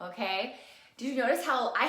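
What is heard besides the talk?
None of the usual background noises is heard.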